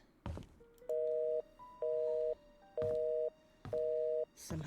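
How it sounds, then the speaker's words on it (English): Telephone busy signal in The Painscreek Killings video game, four evenly spaced steady beeps with short gaps between them, mixed with a few soft knocks and background noise. "Somehow the phone still works."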